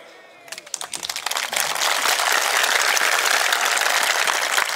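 Loud, dense applause from a large crowd at a political rally in Parli, starting with a few scattered claps and quickly swelling into continuous, sustained clapping that fills the space.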